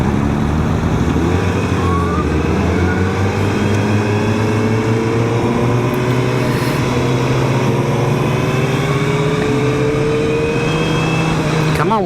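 A 2024 Suzuki Hayabusa motorcycle engine pulls steadily up through the revs on a highway run toward about 60 mph, its rising drone loud and close against strong wind noise.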